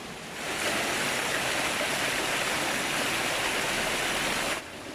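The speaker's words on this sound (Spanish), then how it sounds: "Observamos que el caudal del río es bastante fuerte en estos momentos." A strong river runs past an old watermill on the Río Tinto at Villarrasa. It makes a loud, continuous rushing roar that swells in and holds steady with no voices.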